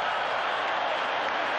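A capacity crowd at a 1979 Raiders at Saints football game in New Orleans fills the stadium with a steady, broad roar of cheering and applause, even and sustained over a brief stretch.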